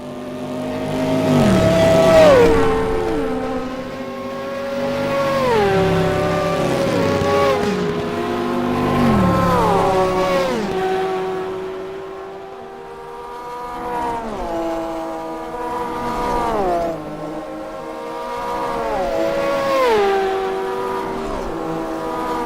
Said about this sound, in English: That Lamborghini, that sound.